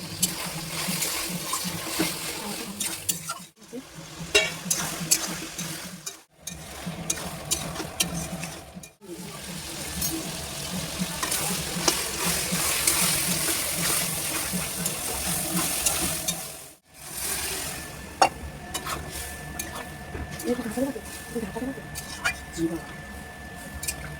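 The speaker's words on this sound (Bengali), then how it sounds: "এবার কষাবো মাংস," Mutton pieces frying and braising in a pan with bay leaf and cardamom, a wet sizzle and squelching stirring broken by a few short pauses, with a voice talking over much of it.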